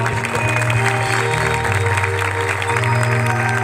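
An audience claps along in a steady rhythm at a Christian prayer festival in Kanikipadar, the clapping fairly soft and continuous beneath sustained droning musical tones.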